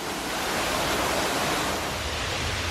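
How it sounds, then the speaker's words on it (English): Man-made waterfall tumbling through trees beside the Queen's Staircase sandstone steps in Nassau, a steady broadband rush that holds evenly for the whole stretch with no voices. "There's also a waterfall through the trees here, which is a man-made waterfall."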